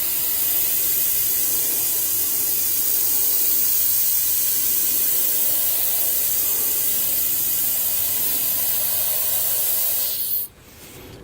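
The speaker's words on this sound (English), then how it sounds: "But the airbrush makes it so much easier to finish up jobs pretty fast." Continuous close, steady hiss of an airbrush spraying paint onto a CNC-machined workpiece, running evenly for about ten seconds before cutting off abruptly, with no talking.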